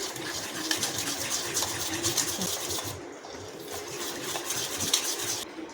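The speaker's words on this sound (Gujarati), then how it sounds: "આ ખીરામાં થોડું સ્વાદ પ્રમાણે મીઠું ઉમેરીશું બરાબર આપણે મિક્સ કરી લઈશું" A spoon stirs salt into batter for South Indian dosa vada, making a steady, close, wet swishing and scraping that runs continuously with a brief softer dip partway through.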